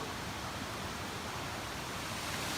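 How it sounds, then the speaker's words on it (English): Broadband rushing of a waterfall in an Irish national park, a steady, dense roar that stays loud and unbroken throughout with no voices. "we're still in the national park, and look at this beautiful waterfall"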